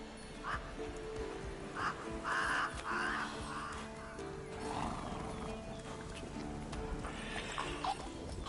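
Roach the horse in the video game The Witcher 3 neighs and whinnies while hooves clip-clop in a steady trotting rhythm, moderately quiet, set against a continuous outdoor ambience with soft game music underneath.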